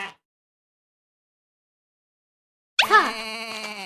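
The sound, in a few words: sheep bleating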